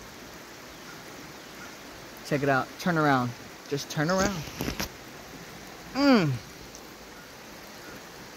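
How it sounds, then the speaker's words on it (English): Creek rushing after a storm, a steady broadband hiss of flowing water heard close by throughout, with people talking over it in short bursts. "Can you hear the creek now?"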